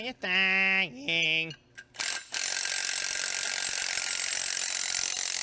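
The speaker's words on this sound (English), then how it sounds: "we'll go ahead and bolt a heim in there" A heim joint is bolted onto a mount for a mini Jeep, tightened with a ratchet-style tool whose whirring clicks rise and fall before a long steady mechanical hiss takes over.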